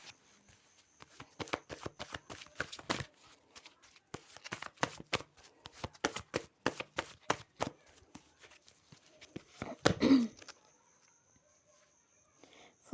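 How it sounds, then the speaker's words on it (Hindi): Tarot cards being shuffled by hand up close: a long run of quick, crisp riffling snaps in bursts, followed by a brief louder rustle near the end, with a faint voice at one point. "ओके, मैं कार्ड निकाल लेती हूँ।"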